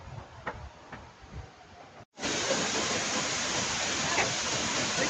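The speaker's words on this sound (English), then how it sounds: "this is the biggest waterfall in the whole Jiuzhai Valley" Biggest waterfall in Jiuzhai Valley: after a brief quieter stretch with soft ticking and a short silent gap, a loud, steady broadband roar of falling water fills the rest, close and continuous.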